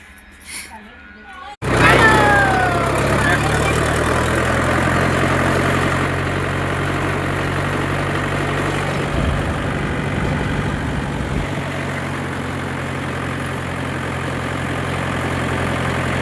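A tractor engine runs during a ride. The clip opens quietly, then the engine comes in suddenly and keeps up a steady, loud, low chugging hum to the end, with voices faintly under it.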